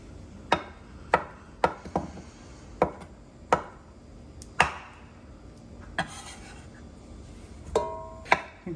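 A sharp kitchen knife chops hard-boiled eggs on a cutting board for potato salad, giving about a dozen crisp, separate chops at an uneven pace, close and fairly loud, with no voices.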